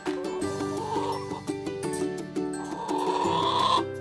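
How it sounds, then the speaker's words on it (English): Sheep bleat repeatedly at a petting farm, loud and close, with a steady harmonic call stretching across several seconds and no talk over it. "Come and touch the sheep!"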